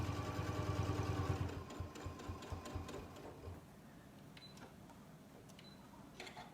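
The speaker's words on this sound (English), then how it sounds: "I'm going to stitch forward, and then I'm going to stitch backward, and then to the bottom." A Janome sewing machine stitches forward and then in reverse, a rapid rhythmic needle chatter that is loud at first, then fades to softer, intermittent stitching and light clicks, heard alone and fairly close.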